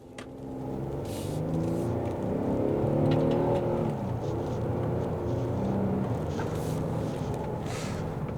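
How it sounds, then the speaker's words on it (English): A 2023 Kia Telluride V6 AWD engine revs up and accelerates in sport mode with a droning exhaust note that rises and holds steady, heard from inside the vehicle, no talking. "Exhaust sounds decent from this V6 engine."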